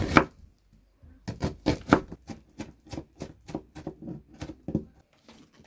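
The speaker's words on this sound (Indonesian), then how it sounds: "Terus kita iris bawang bombay" An onion is sliced with a knife on a cutting board for homemade Korean mandu dumplings, giving a close, crisp series of quick rhythmic chops with brief pauses between strokes.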